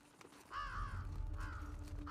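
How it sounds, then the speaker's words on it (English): A crow caws in The Last of Us Part II, two or three hoarse calls over a low rumbling game ambience. "I'd have been scared of the bird."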